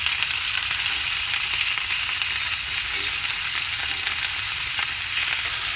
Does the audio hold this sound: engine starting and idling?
no